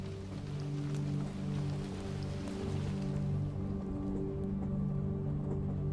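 Soft, continuous rain patters over a low steady hum, even and unbroken, moderately faint and with no voices.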